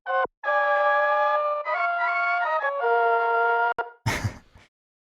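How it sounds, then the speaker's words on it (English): Synth lead patch playing a harmonized melody for a beat: sustained bright buzzy chords that shift pitch several times, each held note ringing alone, followed by a short noisy hit at the end. "I added some harmony to the lead. And this is both just the same lead patch,"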